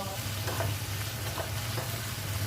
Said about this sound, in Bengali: এখানে আমার টমেটো এবং পেঁয়াজ ভালো করে ভুনে নিচ্ছি।